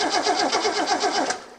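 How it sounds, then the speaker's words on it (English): A six-cylinder car engine with Kettering points ignition cranks over with the ignition on, a fast, rhythmic whirring starter cycle, close and loud, that stops abruptly after about a second and a half. "Got the ignition on, we'll just crank it."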